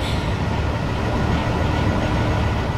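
A train runs in Train Simulator 2021, giving a loud, steady rumble with a constant low roar and no talking.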